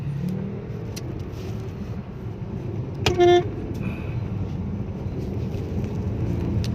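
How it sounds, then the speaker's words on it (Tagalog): Road traffic rumbles steadily close by, with one short car-horn toot partway through. "Ayan traffic traffic"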